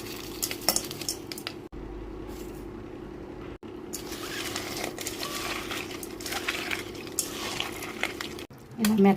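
Peeled roasted eggplant being mashed soft by hand in a metal vessel for pachi pulusu, repeated close scraping and clinking against the pot over a steady hum, with a few brief cuts.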